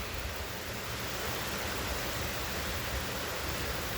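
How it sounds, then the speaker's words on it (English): Heavy rain in a thunderstorm pours down as a steady, dense hiss that holds constant throughout, loud and close with no voices. "we got heavy rain."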